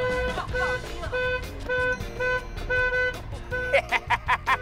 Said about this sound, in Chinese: 鸣笛是要被抓的。